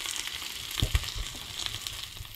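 Goan fish fries on low gas, a soft steady sizzle with a few brief thumps and clatters near the start, faint and close.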